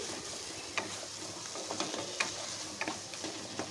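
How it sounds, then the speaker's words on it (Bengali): Ingredients for a bean-filling kachori are stirred and mixed in a pan, a spoon scraping in irregular light strokes with soft clicks against the metal, close and quiet with a faint sizzle beneath. "সমস্ত উপকরণগুলো বেশ ভালো করে একটু মিশিয়ে নিচ্ছি"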